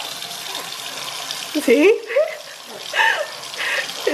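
Tap water runs into a sink while someone washes their hands at home, a steady close splashing that shifts as hands move under the stream, with a voice speaking briefly over it.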